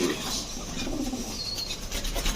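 Pigeons at a pigeon market, soft cooing and fluttery rustling nearby amid market background noise, with faint scraping sounds and no clear speech.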